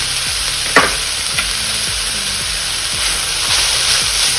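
Finely shredded cabbage and capsicum stir-fried on a high flame for restaurant-style chicken chow mein, a loud steady sizzle broken by regular scraping strokes of the spatula against the pan.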